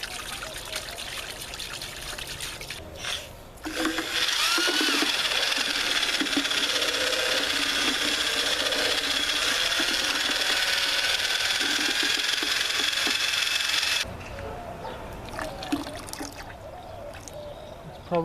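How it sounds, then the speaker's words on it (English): A power drill with a mixing bit stirs a tarp's oilcloth coating, a loud continuous whirring grind lasting about ten seconds before stopping, with quieter background noise before and after. "So that's why I got the drill with the mixing bit."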